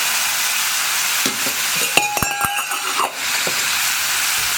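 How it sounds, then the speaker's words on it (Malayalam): Hot water hits a sizzling onion curry in a pan, a loud hissing spatter with a few sharp clanks and tones of a metal utensil in the middle, then the rush settles back into a steady simmering hiss. "ഇനി ഇതിലേക്ക് നമുക്ക് ചൂടുവെള്ളം ചേർക്കാം."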